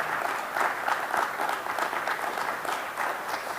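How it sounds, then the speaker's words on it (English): An audience at a school district's state-of-the-schools evening gives a round of applause, brisk clapping with a slightly pulsing texture that holds steady throughout, no voices over it. "Let's give them a round of applause as well."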